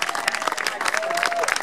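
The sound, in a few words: thunderous applause at a tile wall unveiling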